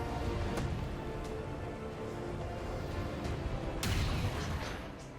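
Nazzul firing dragon rounds in XCOM 2: War of the Chosen, a faint battle scene with a few sharp shots scattered through it and a stronger crack near the end over low rumbling.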